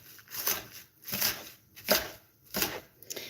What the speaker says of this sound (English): so we're chopping the last bits of salads